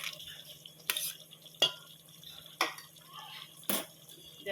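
Ginger, garlic, onion and tomato paste go into a pot of village-style chicken sambar, with several soft scraping stirs and clinks of a utensil against the pot, quiet and close.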